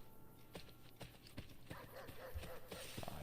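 Horse hooves clopping in the Assassin's Creed Brotherhood video game, a steady run of close, sharp hoof strikes with game ambience underneath.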